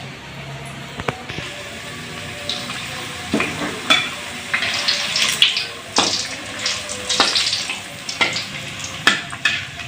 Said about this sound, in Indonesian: Kita langsung goreng.